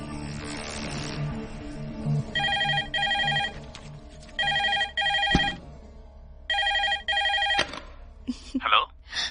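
A telephone rings in three repeated bursts of double electronic trills, each one loud and close, with a voice and a background music bed under and between the rings.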